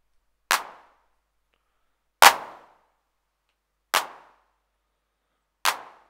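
Four crisp electronic hand claps from a Roland TR-909 drum machine, evenly spaced about every second and a half, each a snappy noise burst with a brief decay into silence.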